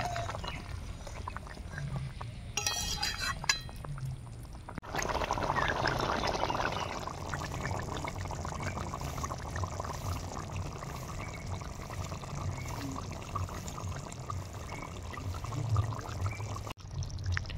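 Water pours steadily into a pot of village-style potato and pointed gourd curry, a continuous close trickling splash that starts after a brief rustle and runs on alone.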